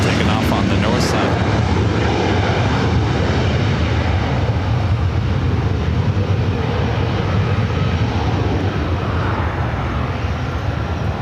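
A British Airways airliner roars through its takeoff roll on the north side at LAX, a loud, steady broadband jet rumble sustained throughout with no break.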